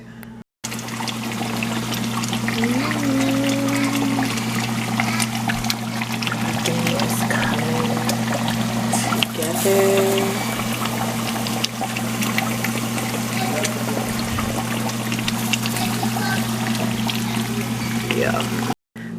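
Tap water pours steadily from a kitchen faucet while potatoes and corn are washed under it, a constant close rush with a faint hum and small splashes running throughout.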